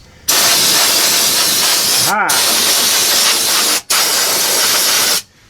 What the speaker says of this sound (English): I'm just going to spray over here stuff until...